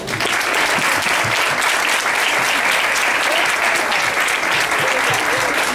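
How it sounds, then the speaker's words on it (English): A school-play audience at a fourth-grade primary school performance applauds the narrators, producing loud, continuous clapping that fills the whole stretch, with faint crowd murmur underneath. "Now, please give an applause to the narrators."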